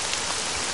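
Rain in the video game Granblue Fantasy falls as a steady, dense hiss of drops, even and continuous throughout, with no voices.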